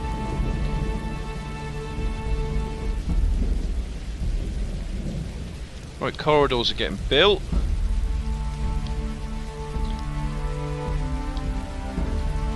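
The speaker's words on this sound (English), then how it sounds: "Started raining." Steady rain falls and low thunder rumbles throughout a weather spell in the video game Dwarf Fortress, with someone speaking briefly in the middle over the constant downpour.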